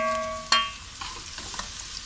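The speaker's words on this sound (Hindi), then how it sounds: "तेज़ आंच पे हम इसे पहले सौते करेंगे।" Onions sauté over high heat in a pan, giving a soft sizzle under a sharp spoon scrape and a few light stirring knocks, close and brief.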